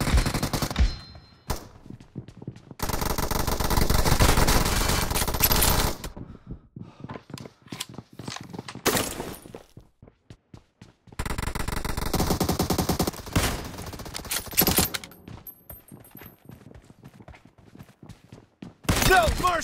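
Automatic gunfire from a video game shooting match erupts in long, loud, sustained bursts, broken by gaps filled with scattered single shots and metallic clanks.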